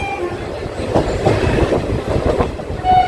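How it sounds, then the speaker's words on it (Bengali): A local train pulls into Berhampore Court station in Murshidabad, its wagons rumbling loudly with a steady clickety-clack of wheels over rail joints throughout. "আমাদের ট্রেন এবার এসে পৌঁছালো বহরমপুর কোর্ট স্টেশনে"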